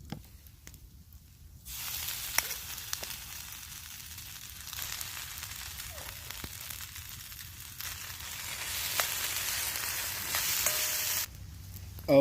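Rice and golden chicken nuggets fry in a pan over a campfire outdoors in cold rain, giving a steady sizzle that swells and stays loud through most of the stretch, with quieter gaps at the start and end.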